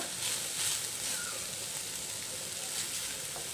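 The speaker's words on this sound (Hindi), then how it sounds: "इसको भी भून कर लेंगे हाई फ्लेम पे ही रखना है" Carrots and bell pepper stir-fry on high flame in a pan for chicken tikka samosa filling, giving a steady, soft sizzle with a faint hiss throughout and no clear talk.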